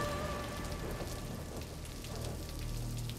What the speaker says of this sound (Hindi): सादा ने मुझे कहा है कि बारिश में ऐसे भीगना नहीं चाहिए।